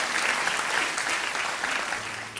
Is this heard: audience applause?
yes